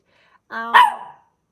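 A single dog bark rings out close and clear, a short sharp yelp with a brief harmonic tail, standing alone in an otherwise quiet room.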